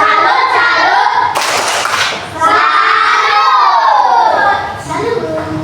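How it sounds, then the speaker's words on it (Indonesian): Children shout a rhythmic clapping salute (tepuk salut) in a classroom, with loud chanted voices and bursts of hand claps mixed together throughout. "Mari kita beri tepuk salut buat Muti dan Nona Wilda."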